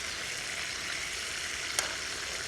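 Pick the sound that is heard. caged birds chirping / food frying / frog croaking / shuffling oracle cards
food frying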